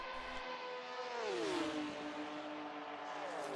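Two endurance race cars scream past at Le Mans, their high-pitched engines rising to a peak as they draw level, then dropping in pitch as they pull away, loud and continuous with no talk over them.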